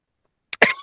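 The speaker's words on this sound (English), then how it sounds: "I've got the cough now." A single short, sharp cough after near silence, close to the listener, followed by a brief throaty rasp.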